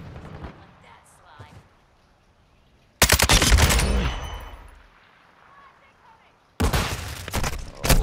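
An RPK light machine gun fires in Call of Duty Modern Warfare II: two loud, close bursts of rapid automatic fire, one lasting about a second and a half and a later one near the end, with quieter game ambience between them.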